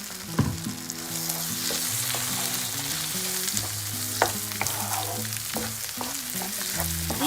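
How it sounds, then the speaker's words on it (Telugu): Ground spinach and onion chutney stirred into a hot fried-onion tempering in a pan, with bright sizzling and frying under repeated scraping stir strokes, close and continuous, no voices. "ఇప్పుడు రుబ్బి పెట్టుకున్న ఈ పచ్చడిని కూడా దీనిలో వేసేసుకుని ఈ తాలింపు అంతా దీనికి కలిసేలా కలుపుకోవాలి"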